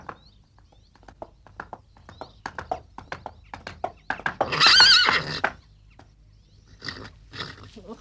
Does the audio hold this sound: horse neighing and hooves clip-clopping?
yes